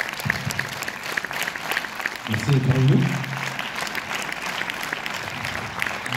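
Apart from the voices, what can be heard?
audience applause at film premiere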